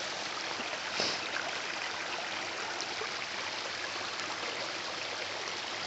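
Forest river water flows in a steady, even rush, constant and moderately close with no voices and no clear changes over several seconds.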